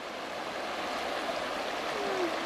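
Small rapids on the Virgin River in Zion make a soft, continuous rushing of flowing water, steady and fairly faint throughout.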